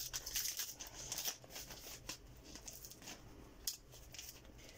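Cardboard parcel being opened, with scissors-like snips, crinkling and tearing in quick bursts, loudest early on, then quieter scattered rustles over a low background hum.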